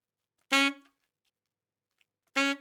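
Two short saxophone notes about two seconds apart, each bright and harmonically rich and ending abruptly, the second widened by a stereo expander plugin for extra width and presence.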